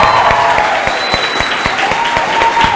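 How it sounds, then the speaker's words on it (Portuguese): An audience at a lecture-style essay-writing class gives a teacher a round of applause, dense clapping with sharper individual claps standing out and a faint tone lingering in the background. "vamos aplaudir o professor Eduardo Pereira que arrebentou nas alunas"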